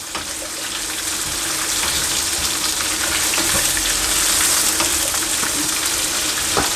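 Capsicum and mixed vegetables sautéing in a hot pan, giving a steady, loud hiss and crackle of frying with faint occasional clicks of stirring, no voices.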